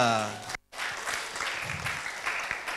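Applause from the audience at a university communication studies orientation talk, a broad steady patter lasting a couple of seconds after a brief gap, with voices mixed in.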